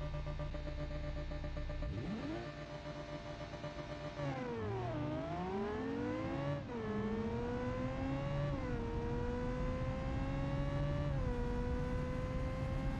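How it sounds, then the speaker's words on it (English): Car engine in the BeamNG driving game, a custom-built overpowered car, starting up around two seconds in and then revving hard, pitch climbing and dropping through repeated gear shifts, loud and steady throughout with no talking. "Rev it up."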